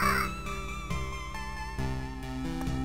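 Crows caw in the Loop Hero video game, short harsh calls set against looping game music.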